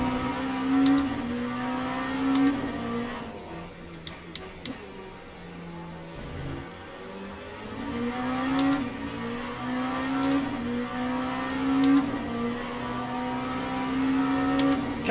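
GT race cars roar around the track at the 24 Hours of Le Mans in Le Mans Ultimate, engines climbing and dropping through gear changes in a steady, close, rising-and-falling whine with little talk.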